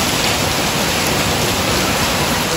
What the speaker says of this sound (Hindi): अचानक से यहाँ पे इतनी तेज बारिश आ चुकी है